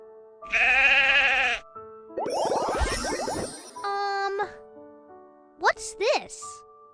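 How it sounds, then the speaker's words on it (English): A sheep bleats in a children's animal-sounds game: one long wavering bleat, then further bleats mixed with bright chime tones and a short voice. "Sheep."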